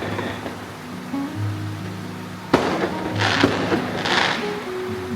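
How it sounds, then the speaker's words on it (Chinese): Fireworks go off in a mountain valley at night, a sharp bang followed by crackling bursts that echo, over a low steady hum. "大山深处放烟花"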